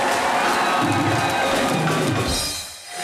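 A studio audience on a television comedy show applauds and cheers for a pair of music composers, a dense, steady wash of clapping and crowd noise that fades near the end.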